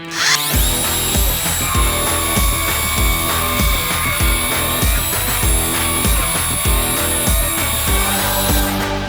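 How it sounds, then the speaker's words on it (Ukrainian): A Metabo grinder works metal continuously at full loudness, whining steadily with a rhythmic grinding pulse throughout, close and loud. "Шліфувальна машина від метабо"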